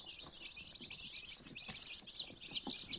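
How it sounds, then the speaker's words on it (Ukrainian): Busy high-pitched cheeping from many winter-hatched chicks, continuous and overlapping, with a few louder peeps near the end and light rustling below. "Курчатка гарної якості, здорові, міцненькі, активні."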